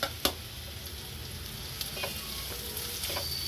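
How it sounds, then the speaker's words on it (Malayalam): Onions sizzle in oil in a pan, a steady close frying hiss with a few faint clicks of a utensil scattered through it. "ഒരു പാത്രത്തിലേക്ക് കുറച്ച് ഓയിൽ ഒഴിച്ചിട്ടുണ്ട് അതിലേക്ക് ചെറിയ രണ്ട് സവാള ഒരു മീഡിയം മീഡിയം സൈസിനൊക്കെ ചെറുതാണ് ഞാൻ എടുത്തത് രണ്ട് സവാള ഇട്ടിട്ടുണ്ട്"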